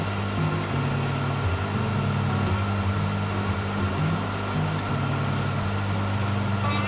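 A rebuilt 2 hp electric motor runs steadily with a constant mechanical hum and faint whirring, close and alone, with no voices.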